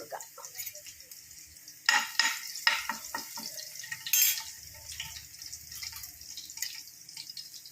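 Curry leaves sizzle as they drop into hot oil in a frying pan with crushed garlic for a Kerala jackfruit seed stir-fry; sudden bursts of crackling and spattering rise over a steady background fry, with clinks of a spoon against the pan.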